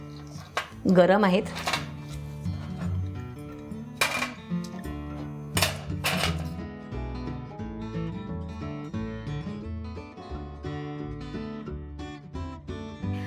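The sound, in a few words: cupcakes being taken out of the baking tin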